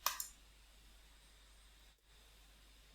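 A computer mouse clicks a couple of times in quick succession while someone removes a well in CO2 injection simulation software, a close, crisp pair of clicks followed by quiet room hiss.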